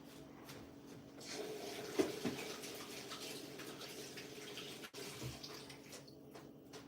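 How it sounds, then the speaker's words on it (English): Hands are rinsed under a running tap in a home kitchen while making tofu chả lụa, a steady close wash of water with a few splashes and clinks. "Man, I have to wash my hand again."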